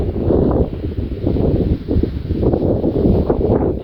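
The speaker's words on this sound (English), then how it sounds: "it's super windy" Strong wind buffets the microphone at a shooting range in continuous low rumbling gusts, with no voice heard.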